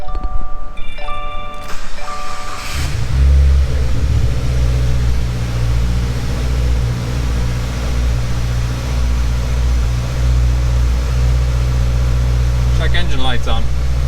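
A 2015 Subaru WRX with an FA20 engine cranks and catches, then settles into a steady, loud idle hum that continues throughout.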